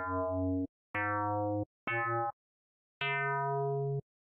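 Percussive bass synth made in Fathom, its amount knob swept from full to zero, gives four separate snappy boing-like notes with downward-bending pitch, each about half a second to a second long, alone and clean.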